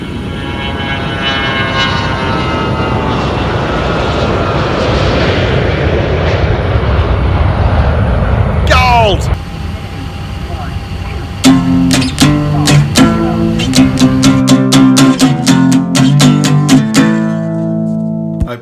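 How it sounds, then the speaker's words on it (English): A small QantasLink propeller airliner on a remote airstrip apron, its turboprop drone loud and close for the first nine seconds, then fading as it passes, followed by a series of sharp clicking and banging noises. "Little Qantas Link aircraft came in ahead of us."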